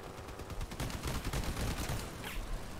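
Vehicle-mounted guns fire in the video game Crossout, a dense, continuous rattle of rapid shots layered over engine rumble while the vehicle drives, moderately loud throughout.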